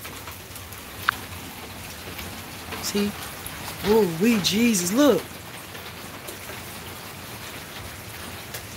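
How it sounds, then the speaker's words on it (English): Rain falls in a steady, soft patter throughout, while someone talks excitedly over it for a few seconds in the middle. "Oh, it's raining. It's raining."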